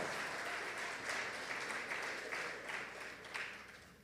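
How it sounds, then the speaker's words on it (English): An audience at a school graduation ceremony applauds, a dense, steady wash of many hands clapping that holds throughout and begins to fade toward the end, heard from within the crowd. "We can give them a big round of applause."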